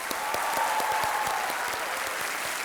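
A studio audience on the TV quiz show Kaun Banega Crorepati claps in sustained, dense, loud applause that holds steady throughout with no break or spoken words.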